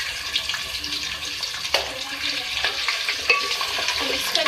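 Beef mince frying with onions in a pan for a turai keema, a steady close sizzle with scraping stirs and spoon clinks breaking through at intervals.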